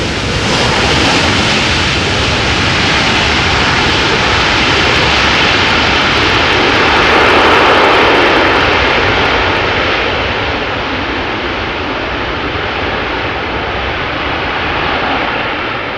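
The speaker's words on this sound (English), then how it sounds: "But definitely some nice usage of the reverse thrust there." An 18-year-old airliner landing at Amsterdam Schiphol, its engines on reverse thrust producing a loud, sustained, broadband jet roar that swells in the middle and stays strong for the whole stretch.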